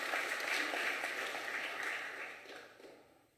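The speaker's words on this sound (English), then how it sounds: "Let us give her a round of applause" Applause from an audience at the opening of the National House of Traditional and Khoisan Leaders, a steady, moderately distant wash of clapping that fades out toward the end.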